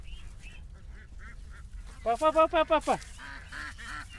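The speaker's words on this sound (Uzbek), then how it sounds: "G'ozlar." A flock of farmyard geese gives a burst of five or six loud, nasal honks close by, amid softer scattered calls from other poultry, while a person speaks briefly.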